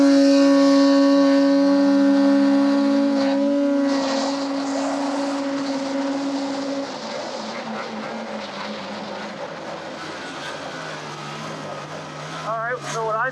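A snowmobile fitted with an SLP clutch kit accelerates hard in a straight pull on snow, with a loud, high-revving engine whine that holds steady and then recedes. A voice comes in near the end.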